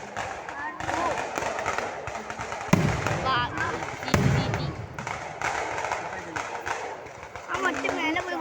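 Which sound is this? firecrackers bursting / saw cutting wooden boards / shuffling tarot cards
firecrackers bursting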